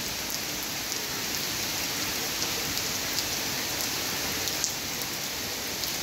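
Steady rain falling outdoors on a rainy monsoon day, a dense even hiss of drops on surfaces with a few sharper drips, continuous and fairly close with no talking.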